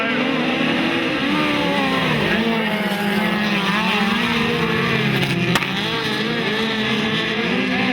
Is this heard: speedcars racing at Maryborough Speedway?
yes